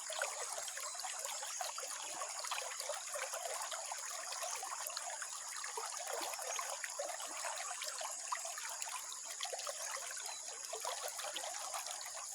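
The Madgaw River in Laak, Davao de Oro, flows close by with a steady, bright rushing and trickling wash that holds constant throughout, without any voices.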